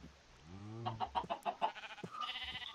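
A chicken in the video game Minecraft clucking, a quick rhythmic run of short clucks in the middle of the clip, close and fairly clear, with softer game ambience around it.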